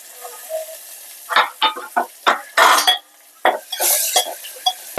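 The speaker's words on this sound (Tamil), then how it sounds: "கொஞ்சமாக கடுகு சேர்த்துக்கிறேன் அதே மாதிரி காஞ்ச மிளகா கொஞ்சமாக கருவேப்பிலை அப்புறமா நசுக்கி வச்ச பூண்டு மிளகு சீரகம்" Mustard seeds, dried chillies, curry leaves and crushed garlic sizzle in hot oil for a South Indian tamarind rasam, with a string of sharp crackling bursts and popping spatters, close and fairly loud, with no talk.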